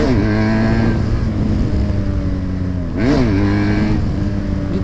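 A BMW motorcycle with a loud aftermarket exhaust idles with a rough, steady rumble, then is revved hard once near the mic, the pitch climbing and falling back to idle.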